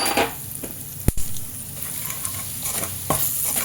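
Malvani masala, garam masala, asafoetida and curry leaves roast in hot oil in a pan. They give a steady close sizzle and crackle with a few sharp stirring scrapes against the pan.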